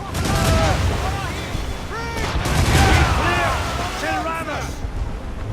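Naval cannon broadsides from a warship in the Assassin's Creed Rogue video game, loud repeated booming blasts under shouted crew voices and tonal battle music, sustained over several seconds.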